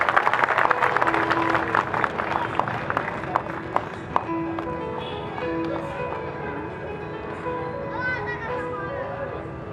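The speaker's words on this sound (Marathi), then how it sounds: "रमाई जयंतीच्या निमित्तानं जोरदार टाळ्या होऊन जाऊ द्या जोरदार" Loud applause from an audience at a Ramai birth anniversary gathering, dense clapping early that thins out over a background of music and tonal whistles, with a voice over it.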